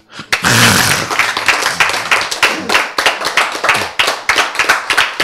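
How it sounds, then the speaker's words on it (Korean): An audience at a Bible lecture breaks into a sudden burst of dense applause. It thins into distinct, fairly regular hand claps that continue close by, with little talk. "크, 박수."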